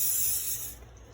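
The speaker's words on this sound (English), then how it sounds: "I use coconut 0-calorie spray" Coconut oil zero-calorie cooking spray hisses from a can in one steady burst of under a second, close and clear, then cuts off.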